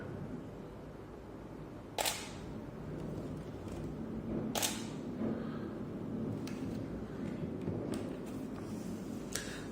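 Several sharp clicks of a Canon 580EX II flash firing via a Cactus V6 trigger at irregular intervals over faint background hum, fairly quiet and close.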